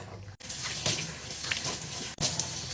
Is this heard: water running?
yes